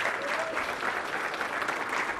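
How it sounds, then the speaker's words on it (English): Dense, even applause fills a conference hall as the audience claps for the event's standing speakers, a sustained wash of many hands with no pauses. "Please give them a round of applause."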